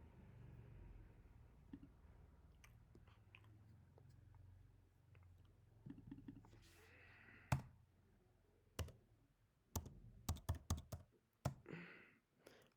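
A search being typed on a computer keyboard, with scattered sharp key clicks and taps that grow into quick clustered bursts near the end, close but fairly quiet over a low background hum.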